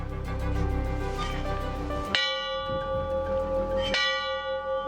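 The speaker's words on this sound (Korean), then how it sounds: "종 한번 쳐볼까요?" A church bell at a memorial church in Crete rings twice, each strike a loud, clear clang followed by a long ringing decay, with ambient hum underneath.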